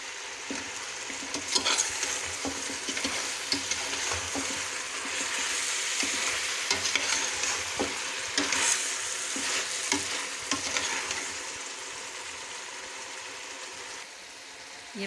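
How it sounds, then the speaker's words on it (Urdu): Ground coriander, salt and turmeric are stirred and fried in a pot while making palak gosht, giving a steady close sizzle with scraping spoon strokes on and off throughout. "اب ان تمام اسپائسیز کو آپ اس میں اچھی طریقے سے بھون لیں۔"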